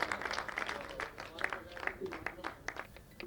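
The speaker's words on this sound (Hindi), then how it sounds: "वारसी साहब, जोरदार तालियों से उनका खैर मकदम." Applause greeting a poet at a mushaira honoring Khumar Barabankvi, a dense spread of clapping at moderate distance that stays steady throughout with no voices over it.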